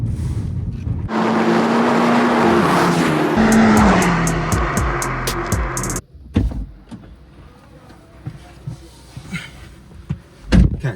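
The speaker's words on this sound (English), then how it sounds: "the Honda Civic Type R is holding its own pretty well" Honda Civic Type R driven on a wet skid pan, its engine loud and droning with a rising note and tire hiss for several seconds, then cutting to quieter clunks and thumps.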